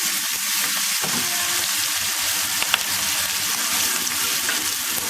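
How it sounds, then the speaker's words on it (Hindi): Constant loud sizzling of onions frying in hot tempering oil, with occasional stirring scrapes and no talking. "प्याज है काट के रखा था वो भी डाल देंगे हम तड़के में, और इसको भी साथ में भून लेंगे"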